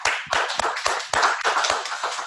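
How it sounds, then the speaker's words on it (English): An audience at a Kent University event claps in a short burst of distinct, fairly close handclaps with uneven rhythm and no talking, suggesting a small group applauding. "Another round of applause for them, please."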